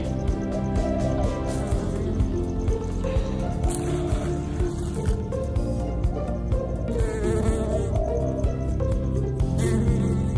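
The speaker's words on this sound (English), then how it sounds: "And this is a European bee." A European bee buzzes close-up in a backyard, a continuous loud drone that holds steady throughout with no voices.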